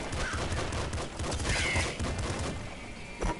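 Dense, rapid gunfire and crashing impacts from snipers in the game Nuclear Throne, a continuous loud barrage with a sharper burst near the end.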